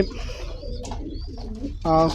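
American Saint pigeons give soft, rolling coos close by, ending in a clearer, tonal call, with a voice murmuring in the background.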